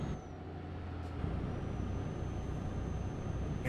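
A truck's air brakes hiss in a trucking simulator game, a steady airy release under a constant low engine rumble, fairly quiet and sustained with no talk.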